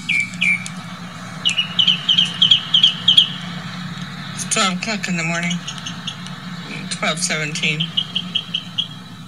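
Birds chirping at night around midnight in northern California, a quick series of high repeated chirps followed by louder sharper calls, over a steady low hum while someone talks.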